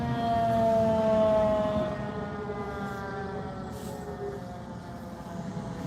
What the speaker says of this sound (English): I told you I heard a fire truck.